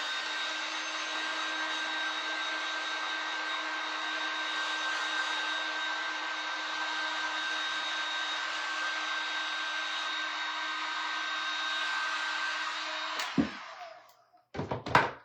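Blow dryer running on a transfer-decorated thrift store magazine holder, a loud steady whirring drone with a constant tone for about thirteen seconds, then switched off, followed by a few handling thunks at the end.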